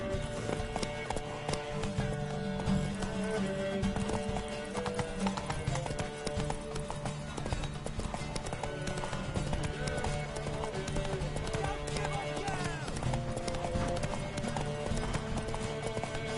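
In The Witcher 3, a horse gallops with rapid, continuous clip-clop hoofbeats throughout. A game soundtrack plays underneath, and snatches of voices come through.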